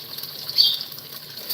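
Running water for rinsing in a home kitchen, a steady soft hiss of flow at moderate distance with no talking over it.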